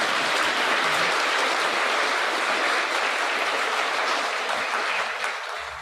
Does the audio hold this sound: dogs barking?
no